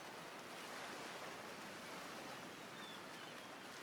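Steady ocean waves wash onto a beach in a video game, a continuous broad surf roar with no talking, holding an even, fairly loud level throughout.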